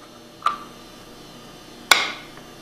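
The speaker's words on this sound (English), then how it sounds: "You may need to tap it down with a rubber hammer to get it fully seated." Two sharp, separate knocks from a rubber hammer tapping a part of a Hypro 2535S triplex plunger pump into its seat, close and clear against a quiet workshop background.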